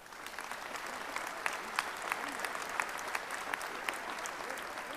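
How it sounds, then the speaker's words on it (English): An audience at a rally breaks into sustained applause, a dense, even wash of many hands clapping that holds steady throughout at a moderate distance, with no voices over it. "Let's bring her to the rostrum with a round of applause"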